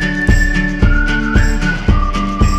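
The whistled melody from an indie pop song plays as a loud, clear line over the backing track, with steady drum hits pulsing beneath it.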